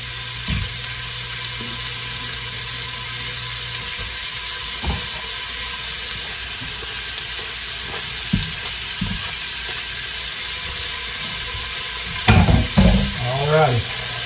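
Precooked sausage browns in a soup pot for a cabbage and sausage soup, with a loud, steady sizzle throughout, a few light utensil knocks, and a cluster of clattering near the end.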